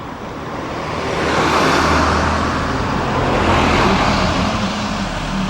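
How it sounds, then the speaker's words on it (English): Vehicles pass along a narrow, quiet country road near Balquhidder and Loch Voil, a broad roar swelling loud and close, then easing slightly before rising again as another goes by, with no talk. "When I say it's a lovely quiet road, we get one or two vehicles, but never mind."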